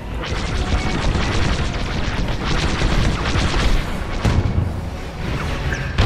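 Imperial shuttles being shot down in Star Wars Squadrons, heard as loud, continuous starfighter laser fire and booming explosions, with a sharp crash near the end over a dense roaring battle backdrop.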